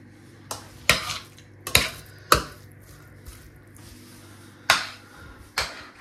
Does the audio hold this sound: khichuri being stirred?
yes